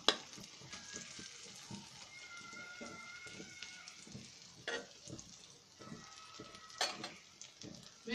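Chopped onions fry in a pan for a prawn dish. A moderate sizzle runs under scattered clinks and stirring knocks, and a few faint tonal squeaks cut in.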